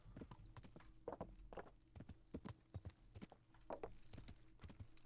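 Horse hooves clip-clop in an uneven walking rhythm from a stolen ordinary horse in Kingdom Come: Deliverance, fairly close and steady, with a brief whinny-like snort among the steps.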